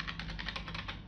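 Quick keystrokes on a computer keyboard, about ten soft clicks in a fast even run, close and fairly quiet, with no voices.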